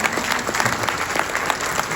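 Banquet-night applause fills a convention hall in Anaheim, a dense continuous patter of many hands clapping, loud and unbroken for the whole short stretch.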